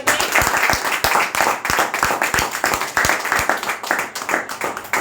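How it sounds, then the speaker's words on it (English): An audience at a high school art department awards event applauds steadily, many hands clapping in a dense, continuous patter with a few sharper claps standing out, with no speech over it. "So give him a round of applause again."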